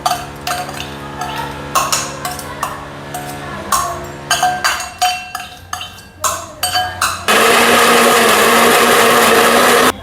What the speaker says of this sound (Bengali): এই যে আমাদের সব মিক্সি হয়ে গেছে মিক্সারে, এবার সব পেস্ট করা হয়ে সব গেছে।